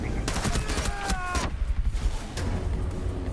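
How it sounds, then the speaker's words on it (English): Turret gun firing in the video game Rainbow Six Siege, a fusillade of sharp shots in quick bursts at the start, then quieter gunfire and game noise, with faint voices in the background. "Well, that's my turret gun."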